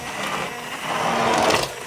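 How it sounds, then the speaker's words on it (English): A stick blender whirs through strawberries for jam, a loud, close, steady motor drone lasting a couple of seconds. "But I'm going to use my stick blender"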